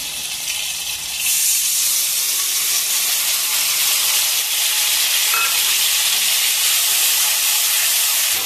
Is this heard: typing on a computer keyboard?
no